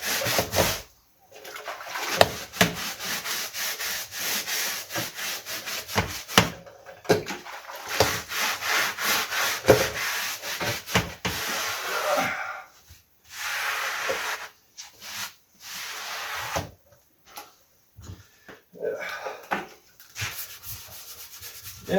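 Bristles of an old paintbrush scrub back and forth over real wood during a carpet and furniture cleaning, a close, steady rasping rub in bursts with short pauses between strokes.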